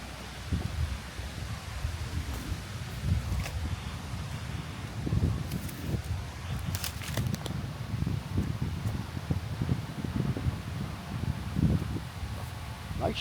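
Wind rustling leaves in a backyard in Cleveland, Ohio, the day after a summer storm, a continuous breezy rustle with gusty swells and some wind buffeting on the microphone.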